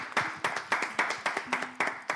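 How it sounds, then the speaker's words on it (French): A small audience at a French contest evening claps in a loose, uneven rhythm of distinct hand claps, close and fairly loud, lasting only a couple of seconds. "Est-ce qu'on peut applaudir pour vous-même,"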